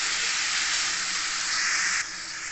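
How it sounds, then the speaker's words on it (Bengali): Chicken fries in a pan with onion, ginger and garlic, giving a loud, steady sizzling hiss that drops a little in level near the end, with no voices. "এবার ভালো করে ভেজে নেব।"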